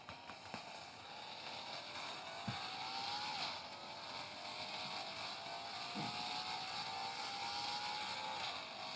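Engine note of a car in a mobile car video game, a steady synthesized drone with rising pitch sweeps as it accelerates, continuous and moderately loud with no talk.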